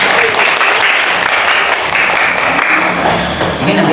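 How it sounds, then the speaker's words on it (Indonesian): Lively applause from a class group after a lesson presentation on Surah Al-Kafirun, close and loud claps blending into a busy patter with some taps and thumps mixed in. "Tepuk tangan untuk kelompok 1."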